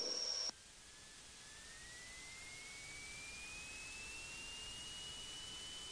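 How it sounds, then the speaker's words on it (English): A 2006 Piper Archer's piston engine at full power on departure, a loud steady broadband roar with a tone rising slowly in pitch as it accelerates; a brief higher whine cuts off in the first half second. "this is the departure of 2006 Piper Archer"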